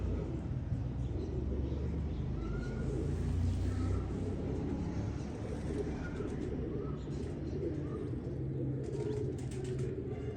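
Pigeons coo softly and steadily in a loft, a low rumbling murmur close by with faint bird calls and occasional wing flutters mixed in.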